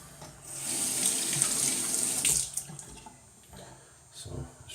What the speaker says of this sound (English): Let's get some water on the face, and I think I need to add a little bit more water to this lather